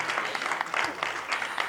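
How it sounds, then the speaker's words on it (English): A short burst of audience applause for a speaker at a policy conference presentation, moderately quiet with a few voices mixed in beneath the clapping. "Maybe a round of applause for our speaker."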